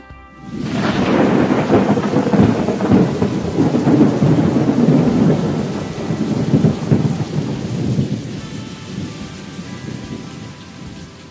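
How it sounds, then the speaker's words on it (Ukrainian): Cold autumn rain pours in a heavy, steady hiss, with a deep rumble of thunder rolling underneath through most of the stretch before easing toward the end. "повіють пронизливі вітри та полють холодні дощі"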